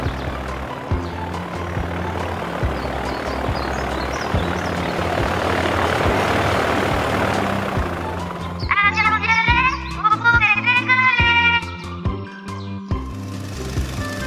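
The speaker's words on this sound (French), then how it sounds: "L'avion violet a démarré ses moteurs." A cartoon airplane's engines start up and run on a runway, a loud propeller drone swelling steadily to a roar, then cut by an excited childlike voice over rhythmic background music.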